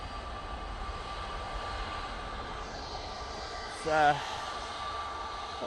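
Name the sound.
EasyJet airliner taxiing at Manchester Airport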